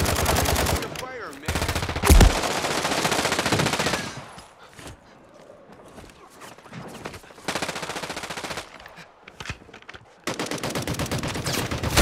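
RPK machine gun fire in a Call of Duty match comes as long, loud sustained bursts of rapid automatic shots, several volleys broken by quieter gaps with faint voices in between.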